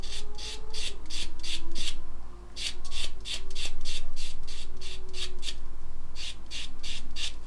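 Rhythmic rasping strokes of a sanding sponge working over a plastic model oil tank part, about a dozen quick scrubs in two bursts, close and steady with a faint tonal hum behind.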